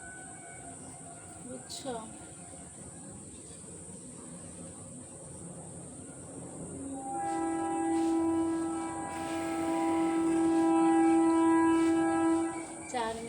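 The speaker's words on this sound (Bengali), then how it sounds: "ট্রেন যাবে, ট্রেন," A train passes with a sustained, loud horn blast in its second half, rising over background noise after a brief spoken word.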